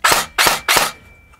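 Three semi-automatic shots from a Zion Arms / R&D Precision PW9 Mod.1 airsoft gun; loud, sharp close reports evenly spaced about a third of a second apart, then quiet.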